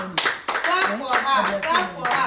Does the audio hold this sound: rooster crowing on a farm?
no